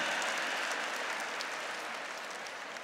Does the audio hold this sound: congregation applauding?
yes